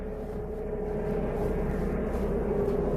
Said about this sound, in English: We got a helicopter.